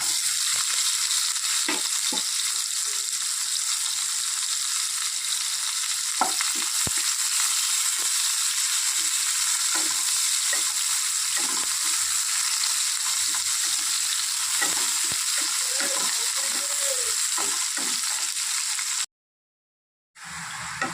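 Chopped onions sizzle steadily in hot oil with cumin seeds for a pomfret curry, a continuous frying hiss broken by occasional scrapes and stirs, ending with a brief cut to silence.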